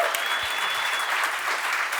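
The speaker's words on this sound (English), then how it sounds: "can we just give a huge round of applause to these two?" Audience applause after a debate in New York, a dense steady wash of clapping from a large crowd, sustained and even for the whole stretch with no voices on top.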